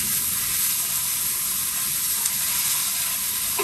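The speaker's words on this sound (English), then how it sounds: "You can hear that nice sizzle." Vegetables with thyme and bay leaves sizzle in oil in a pot, a steady close hissing crackle with no talk over it.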